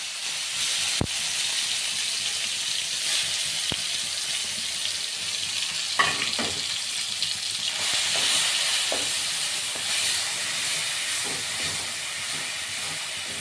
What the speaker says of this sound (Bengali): এবার নাড়ছি, মোটামুটি কষানো হয়েছে